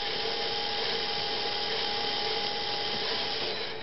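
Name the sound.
LEGO Power Functions motor running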